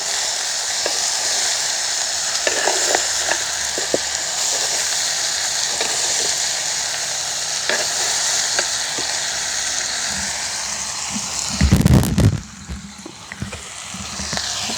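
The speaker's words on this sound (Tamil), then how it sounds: "நல்ல வடிவாக பிராட்டி விடுவோம்" Crab curry frying in a pan in a village kitchen is stirred. A constant loud sizzling hiss carries soft scrapes of the spoon, and a sudden harsher rattle and burst come near the end, with no talk.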